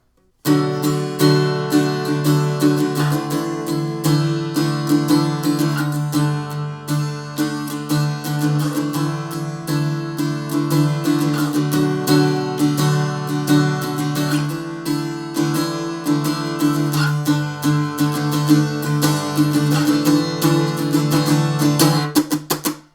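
Strummed guitar chords from the verse of a song in a down, down, down, up, up pattern, played steadily in a full, continuous rhythm with no gaps, loud and close, with no voice over the playing.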